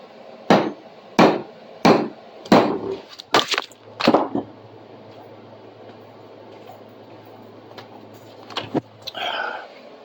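Sharp metallic hammer blows drive a wedge into a wooden shovel handle in a steady rhythm, about a half dozen close knocks, then a quieter pause and a few scattered taps.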